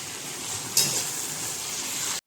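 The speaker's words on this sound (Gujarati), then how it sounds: "હલાવી લઈશું." Spiny gourd and potato curry with kasuri methi and crushed peanut-gathiya mixture is stirred in a pan, giving a steady close sizzle with a brighter scrape near the start, then cutting off abruptly.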